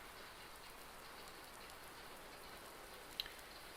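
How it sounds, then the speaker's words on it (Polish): Steady soft hiss of rain falling outdoors in a Polish village, turning to snow, faint and even throughout with one tiny tap near the end. "Tam, śnieg zaczął padać. Jeszcze deszcz."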